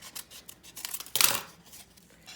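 Scissors snipping through paper to cut out a heart shape, a few quick close snips with one louder cut in the middle, no talking.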